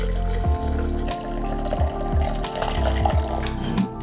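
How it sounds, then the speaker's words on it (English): Steeped coffee poured from a press into a large blender, a steady liquid trickle with a few dull knocks and splashes, close and moderately loud with no talk. "I'm going to pour it into a large blender"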